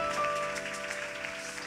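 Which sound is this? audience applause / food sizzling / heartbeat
audience applause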